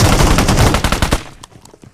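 Gunfire in the battle royale game BGMI: a loud, rapid automatic burst rattles for about a second, then gives way to a few scattered, fainter shots.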